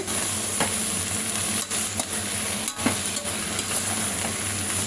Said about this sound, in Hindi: अब इसको हम मिक्स करेंगे